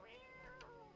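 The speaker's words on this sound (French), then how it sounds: "On va caresser le chat." Cat meowing in the video game No I'm Not a Human, one short, fairly faint two-part meow heard alone.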